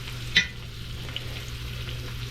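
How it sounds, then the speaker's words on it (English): Wahoo fillet searing in a hot pan, a soft steady sizzle with a brief louder clink or scrape near the start, close and continuous. "See how little it takes to get a sear on it."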